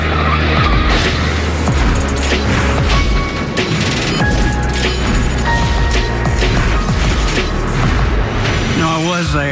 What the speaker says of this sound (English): When Curtis Turner flipped that Chevelle at Atlanta, a lot of folks who were there say it's the worst accident they ever saw.